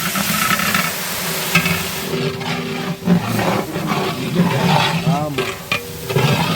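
Two kilograms of tomatoes frying and being stirred in a large bulk chicken biryani pot, a busy, loud sizzle with scraping stir strokes throughout and a brief voice near the end.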